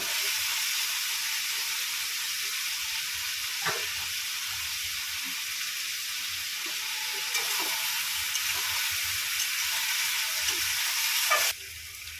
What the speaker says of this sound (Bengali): চিংড়ি মাছটা একসঙ্গে ভেজে নেবো